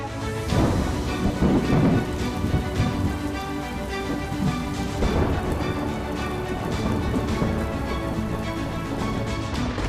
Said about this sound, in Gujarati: હવે રાજ્યમાં થશે શ્રીકાર વરસાદ